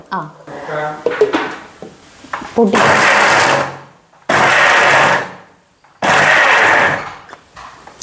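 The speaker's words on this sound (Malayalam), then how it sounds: "ഉള്ളി അരിഞ്ഞതും പച്ചമുളകും ചതച്ചെടുക്കാം" An electric mixer grinder crushes chopped onion, ginger and green chilli in three loud, whirring pulses of about a second each, with short pauses between. A voice talks briefly before the first pulse.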